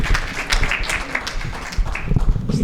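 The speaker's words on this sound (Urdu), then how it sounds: "آپ سب کی تالیوں میں توصیف خاور صاحب." Applause from the audience at a mushaira poetry gathering in Riyadh, a steady wash of clapping that carries on for the whole stretch with a faint murmur of voices beneath it.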